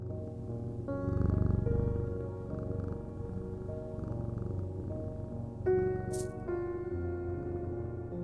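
A cat purrs close by in a low, steady rumble lasting several seconds, layered under a quiet sustained background hum.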